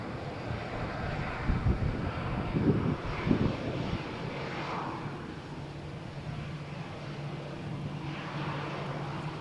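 Jet airliner taking off at Malaga Airport on a stormy morning, a broad engine roar heard from a distance under gusty wind buffeting the microphone, holding steady throughout with a few louder thumps early on.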